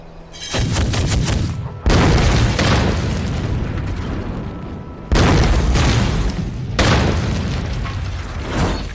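Heavy explosions blast open the gate of a bandits' mountain fortress in a wartime drama, several loud booming blasts each followed by long rumbling roar and debris, with no speech.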